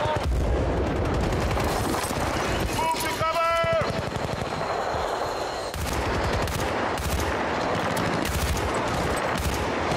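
Dense, rapid gunfire from the video game Battlefield: Bad Company 2, with machine-gun bursts and shots running loud and continuous throughout, under excited players' talk.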